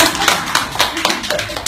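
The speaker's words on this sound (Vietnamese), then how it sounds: "Rồi, lớp cho một tràng pháo tay." A classroom of people clapping in a brief round of applause for a teacher, dense irregular hand claps close by and moderately loud, with faint murmuring under it.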